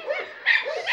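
Several dogs bark and yip together inside a dog shelter kennel, a loud, close, continuous clamour of overlapping voices.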